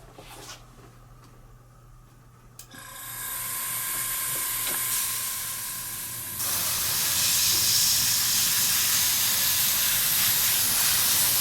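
An airbrush or spray can hisses as black paint goes onto a section of Brummbar groundwork, starting as a quiet hiss and growing into a loud, continuous spray that runs to the end.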